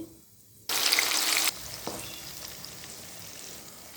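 A sudden burst of loud sizzling as tempering seeds hit hot oil, dropping after a second to a quieter, steady frying crackle.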